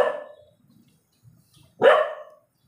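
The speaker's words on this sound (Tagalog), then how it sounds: "Maingay itong aso." A dog barks twice, a short bark and then a louder, sharper one after a quiet gap, close by with nothing else sounding.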